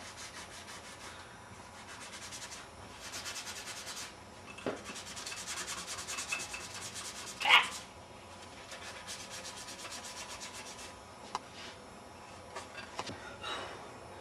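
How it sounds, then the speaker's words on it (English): A model airplane's cockpit and nose being sanded by hand: repeated soft, raspy rubbing strokes in bursts, close and fairly quiet, with an occasional tap or bump and no speech. "Now we're going to sand it."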